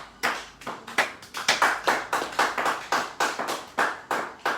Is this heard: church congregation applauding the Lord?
yes